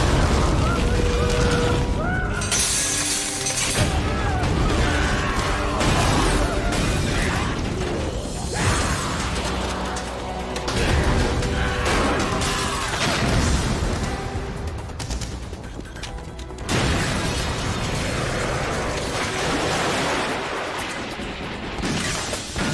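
Explosions in the video game Metal Gear Solid 2, aboard a sinking tanker off Manhattan: repeated booms and sharp bursts with clattering mechanical noise and gunfire-like pops over a dense, loud soundtrack, with no speech.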